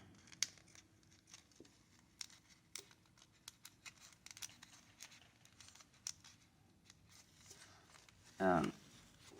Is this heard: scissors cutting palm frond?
yes